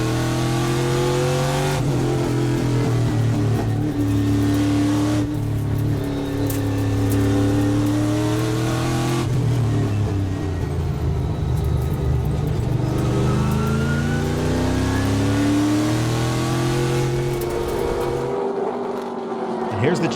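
Trans Am Series race cars lap the Sonoma circuit, engines rising and falling through the gears as the cars pass in loud, sustained waves, with commentary talking over the roar.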